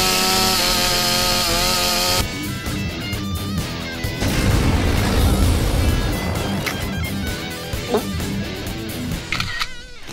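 After a short synth tone, a chainsaw-like buzzing engine revs and snarls loudly over busy game music and clattering effects in the video game Sir Chainsaw.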